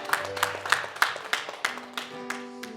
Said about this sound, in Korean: 우리 주님께 감사와 영광의 박수 한번 올려드릴까요?